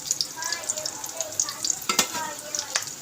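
Ground spices with garam masala and chili powder stirred through a garlic, green chili and coriander paste in a pan for Malvani alu fatfata, giving a steady close sizzle with repeated scraping strokes and no voices.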